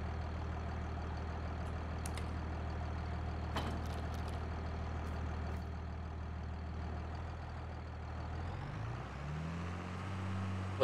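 A farm tractor engine runs steadily at idle, a loud low rumble close by throughout, with a shift in pitch near the end as the engine speed changes.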